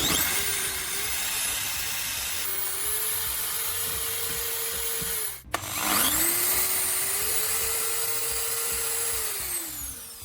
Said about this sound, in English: secure the wrench in a vise, and start drilling